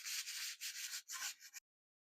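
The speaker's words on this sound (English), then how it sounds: "I'm going to go ahead and sand it a little bit" Sandpaper rubbing back and forth on a carbon fiber wing tube for a model airplane, a close, steady scratchy rasp in a few strokes before stopping abruptly.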